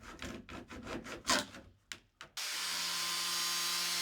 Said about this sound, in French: Découpez avec la scie à métaux des 2 côtés.